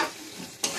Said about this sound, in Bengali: এদিকে মশলা কষা হচ্ছে,